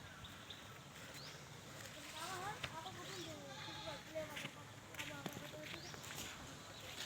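A goat being fed in a rural field gives a few faint, wavering bleats amid soft outdoor noise and low voices in the background.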